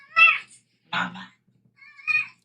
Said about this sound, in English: I love that kitty cat.